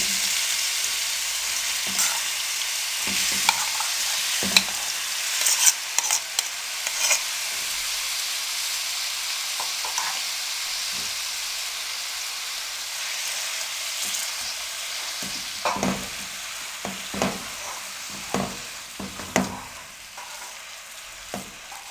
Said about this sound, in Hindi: अब इसमें हम चॉप किए हुए प्याज डाल देंगे।